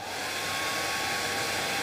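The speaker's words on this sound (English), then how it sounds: "if I get the hairdryer, just a normal hairdryer" A hairdryer blows with a steady, loud, even whoosh from start to finish, close by and uninterrupted.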